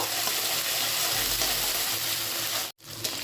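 Black cumin seeds, chopped green chilli and ginger paste frying together in hot oil for a ridge gourd dish, a steady close sizzle running nearly unbroken before a brief cut near the end.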